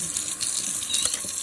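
Tap water runs steadily from a faucet while a paintbrush used for oil painting is rinsed, a continuous close hiss and splash with no talking.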